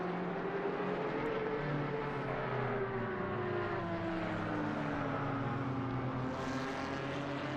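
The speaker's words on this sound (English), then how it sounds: "Such completely different sounding Porsches." Porsche race cars in a Nordschleife 24-hour racing video game drone steadily with engine tones whose pitch shifts as they pass, with no talking over them.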